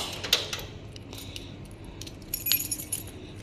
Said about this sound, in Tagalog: Yan po ang ating susi.